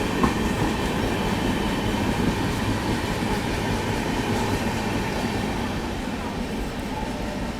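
Marathwada Sampark Kranti Express running on the tracks, a continuous loud rumble and rattling clatter of the carriages heard from on board, steady throughout.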